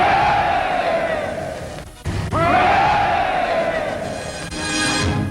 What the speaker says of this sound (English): called on the crowd to give him 3 special cheers